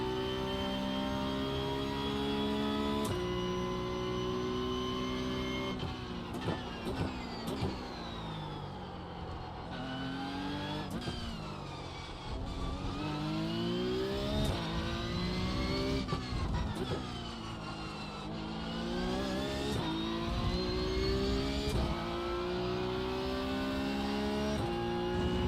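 A Porsche Cup race car screams down the main straight at Mexico, its engine climbing in pitch again and again through a series of upshifts, loud and close throughout with no voices.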